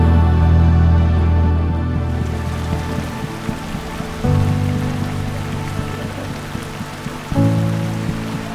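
Steady rain pours down in Luwuk Banggai, Sulawesi, a dense continuous hiss close by, with a few louder patters and thuds breaking through and no voices.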